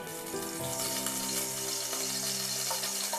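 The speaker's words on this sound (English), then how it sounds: "In this, I'm going to add nearly 2 tablespoons of oil" Oil heating in a hot handi for peas pulao gives a steady, bright frying sizzle, with soft background music underneath.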